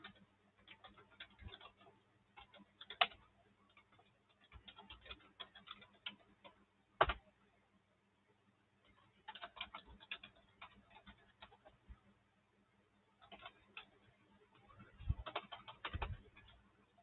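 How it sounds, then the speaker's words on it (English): Computer keyboard typing comes in scattered bursts of soft, quick key clicks, faint and thin, with occasional louder taps and pauses between flurries. "you can hear the typing."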